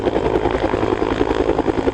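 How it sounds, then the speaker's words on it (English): Firefighting helicopter flying over a wildfire, its rotor producing a loud, continuous rhythmic thudding drone that stays steady and close throughout, with no voices. "But when some helicopters lifted off to bring water to the fires, they didn't get very far."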